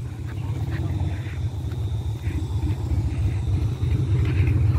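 A car pulling away on a road trip, its low engine rumble steady and fairly close throughout, with no talk over it.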